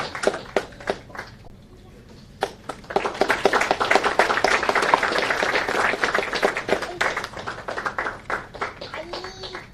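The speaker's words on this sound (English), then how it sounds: "Let's give a big round of applause to Sri Vijay Matthew as he receives the award from our chief guest" Applause at an award ceremony as a recipient accepts an award from the chief guest. A few scattered claps swell into steady, full audience clapping that carries on for several seconds.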